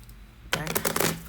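Cards from a Skytear Horde deck are shuffled after a quiet pause, producing a quick burst of riffling, flapping card clicks that lasts under a second, close and crisp with no talking.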